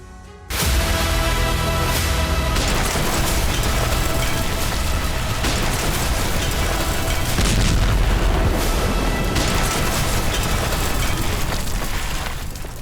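Explosions from a Hamas rocket attack in Rishon LeZion, Israel: a loud sudden boom followed by continuous heavy rumbling and several more distant blasts, with no talk.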